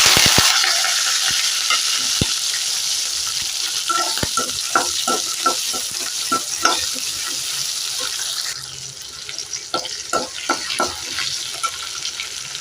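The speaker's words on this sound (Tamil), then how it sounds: "நல்லெண்ணெய் ஊற்றிக்கலாம் கடுகு போட்டுக்கலாம் கொஞ்சம் வெண்டையும் போட்டுக்கலாம் வெங்காயம் பூண்டு கருவேப்பிலை இதையும் போட்டுக்கலாம்" Okra, onion, garlic and curry leaves hit hot sesame oil with mustard seeds, sizzling loudly and close, then quieter, with repeated stirring scrapes and clatters of a spoon in the pan.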